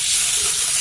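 Tomatoes hit hot oil in a pan while a desi tinday masala is being made, giving a brief, loud, even hiss of sizzling up close.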